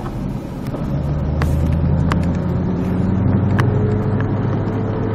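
A car accelerating during a driving lesson, a steady low engine drone that swells slightly and holds, heard from inside the vehicle with no talking.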